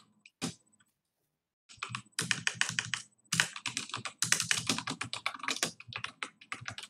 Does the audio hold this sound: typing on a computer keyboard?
yes